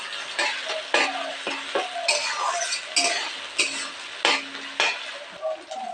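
Ginger and garlic frying in a pan for ghugni, a bright sizzle broken by repeated sharp scrapes and clinks of a utensil against the pan in an uneven rhythm, close and moderately loud, no speech.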